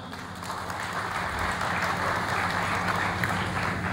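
An audience at a public speech bursts into applause, a dense, steady wash of clapping that swells in the first second and keeps going evenly throughout.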